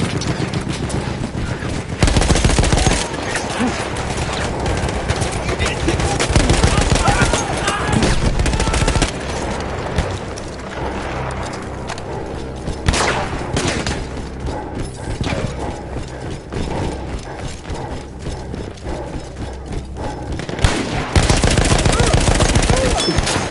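Machine gun fire in the video game Battlefield 1 from an Austro-Hungarian emplacement, heard as loud, rapid bursts of automatic shots with mechanical clatter. The bursts come in several stretches separated by brief gaps, and faint battlefield noise runs in the background.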